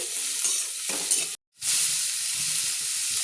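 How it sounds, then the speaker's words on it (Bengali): Chopped bottle gourd is stirred in hot oil in a pan: a close, dense frying sizzle with scraping stirs, broken by a brief silence midway before the crackling resumes, no voices. "এবার আমি লাউগুলো একটু তেলের সাথে নাড়াচাড়া করে নিচ্ছি।"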